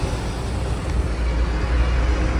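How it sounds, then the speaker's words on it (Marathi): Steady traffic roar inside the first tunnel of the Lonavala ghat road, a dense, continuous low rumble of passing cars, buses and trucks, loud and close with no break. "पण खूप ट्रॅफिक पण आहे"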